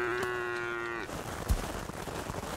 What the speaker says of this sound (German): Alter, die Kühe, ne?